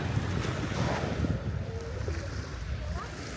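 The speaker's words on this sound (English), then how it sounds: "You can just hear the waves, the water." Ocean waves on Karon Beach in Phuket, a soft continuous wash of surf mixed with gusty wind buffeting the microphone, fairly faint and without speech.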